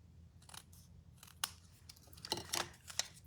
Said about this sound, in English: then we're just going to trim it back a little bit from the half